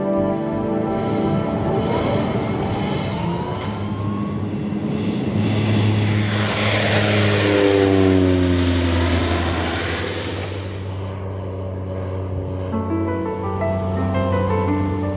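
A steady propeller engine of an aerial mapping survey airplane drones loudly throughout, its pitch slowly sweeping as it passes close by, with no other sounds.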